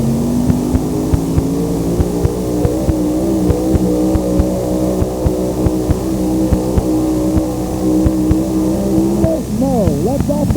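A racing engine drones loud and steady at sustained high revs for most of the stretch, then the pitch wavers and drops sharply near the end as the rider lets off the throttle, with a commentator's voice running over it.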